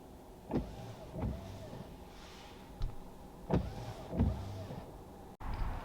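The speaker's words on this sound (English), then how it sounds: "And just like that, the windshield wipers are then turned on" A Tesla's windshield wipers switched on by voice command, sweeping in a slow regular rhythm with soft rubbery swishes and motor whirs inside a quiet cabin, about six passes.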